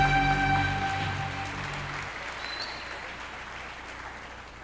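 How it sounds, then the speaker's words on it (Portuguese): Church congregation applause, a broad wash of clapping that fades gradually while a sustained organ or keyboard chord rings at the start and then drops away, leaving softer clapping in a reverberant hall. "Podem, aplauda de novo pela vida deles"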